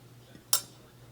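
Steak knives give a single sharp metallic clink as they are handled and set down in a kitchen drawer, close and brief, with a faint hum underneath.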